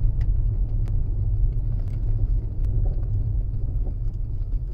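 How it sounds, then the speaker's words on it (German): A loose part in a Tesla Model S, somewhere at the front right, gives a few sharp, sporadic clacks over the steady low rumble of the cabin while driving. "Klack. Irgendwas ist locker wieder mal."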